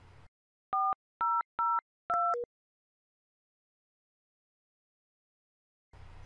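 Four crisp telephone keypad DTMF tones beep one after another while a call forward number is entered on an enterprise desk phone, each short, clean and evenly spaced, followed by silence.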